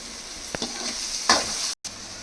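Onions and curry leaves frying in a pan, with a few quick spatula scrapes over a soft, steady sizzle, close by and with no talk.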